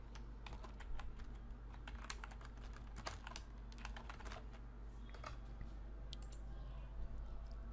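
Fingers type a folder name on a computer keyboard, a close run of quick irregular key clicks over a low steady hum.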